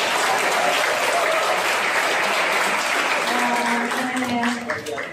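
Loud, dense audience applause for Rocky Gerung at a campus event at UMY in Yogyakarta, a steady sustained roar of many hands clapping that begins to thin and fade near the end.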